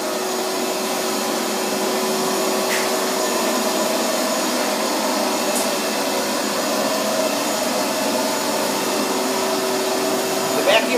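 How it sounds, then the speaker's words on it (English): A loud vacuum roars steadily and close the whole time as it sucks resin beads into a column, a constant sucking rush with faint rattles mixed in. "The vacuum is sucking them right in as fast as I can pour them"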